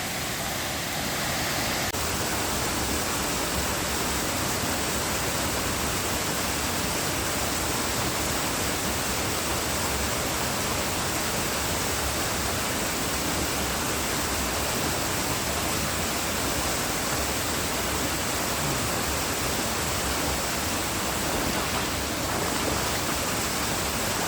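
Water pouring over a shallow waterfall into a pool in Macquarie Pass National Park, a dense, continuous broadband rush that stays loud and close without pause for the whole stretch.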